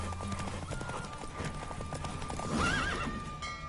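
A horse gallops with steady clip-clop hoofbeats and lets out a rising neigh near the end in the video game The Witcher 3, set over a low game-sound background.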